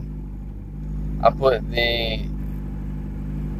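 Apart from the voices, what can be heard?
car engine idling roughly with throttle body issue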